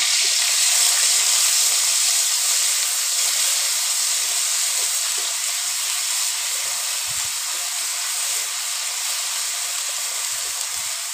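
Fenugreek seeds with ground onion and garlic paste frying in hot oil give a steady, fairly loud sizzling hiss that holds evenly throughout, with a few faint low knocks near the end.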